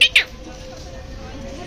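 Two quick, loud, high-pitched nasal calls of an Indian peacock at the Delhi zoo come in close succession at the start, followed by faint background murmur.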